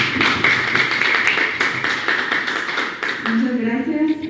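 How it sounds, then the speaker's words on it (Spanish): Audience applause at a presentation, a steady crowd of claps filling the room before a voice begins talking near the end. "Vamos a dar un aplauso, por favor."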